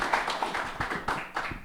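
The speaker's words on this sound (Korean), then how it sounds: "또 박수로." A church founding service congregation claps briefly, giving a short burst of rhythmic applause that sounds close and slightly uneven.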